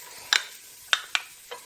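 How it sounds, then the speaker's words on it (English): Chopped onions tossed into melted butter in a pan give four short, sharp sizzling bursts, each crackle fading quickly into a quiet hiss, close and moderately loud, with no talking. "I'm going to throw in the chopped onions."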